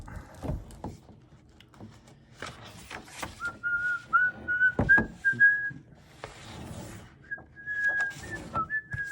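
A person whistles a simple tune in short phrases, thin and clear, mixed with clicks, rustling and handling noises close by.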